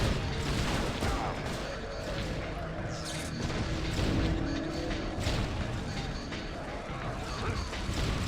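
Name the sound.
grenade launcher fire in the video game Judge Dredd: Dredd vs. Death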